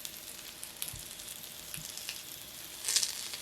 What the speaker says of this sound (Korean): 최소한의 오일로 팬에서 구워줄 거예요.